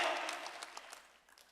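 Congregation applauding during a Wednesday church worship service, a brief burst of broadband clapping that starts strong and steadily fades over about a second and a half, with no voices over it.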